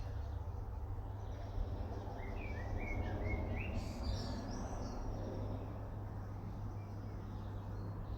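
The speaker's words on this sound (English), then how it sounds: "share these sacred bird songs" Birds singing outdoors in the morning, a few thin chirps and short whistled phrases in the middle, fairly faint over a steady low background hum with no speech.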